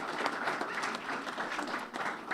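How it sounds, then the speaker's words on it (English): Crowd applause at a community fund annual meeting, a steady wash of many hands clapping, moderately loud with small swells and a slight dip near the end. "We have to give him a big round of applause."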